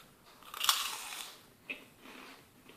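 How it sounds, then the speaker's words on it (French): Homemade meringue made from egg whites is bitten with a sharp, close crunch, followed by softer crumbling and a second brief crackle, quiet otherwise. "je vais vous en croquer une pour que vous entendiez le bruit"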